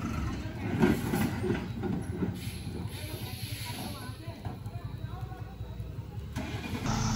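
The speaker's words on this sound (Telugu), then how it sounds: "ఇది టాటా లారీ." A heavy 16-wheel Tata truck engine rumbles and strains steadily under load on a narrow ghat road, a low continuous drone with faint voices in the background.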